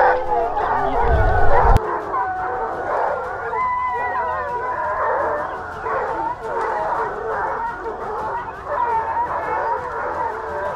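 Pack of hunting dogs baying at a wild boar during a hunt, a continuous chorus of yelps and barks from several dogs at middle distance, with a brief loud thump near the start.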